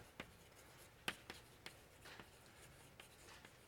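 A pen or chalk writes by hand during a mathematics lecture, producing a string of soft scratches and taps, faint and irregular, with no voice.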